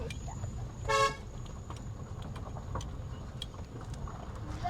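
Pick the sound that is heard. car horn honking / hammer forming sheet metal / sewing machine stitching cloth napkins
car horn honking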